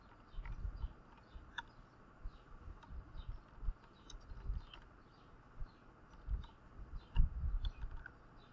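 Quiet, irregular clicking of a computer keyboard as C code is typed, soft clustered keystrokes at close range with short pauses between bursts.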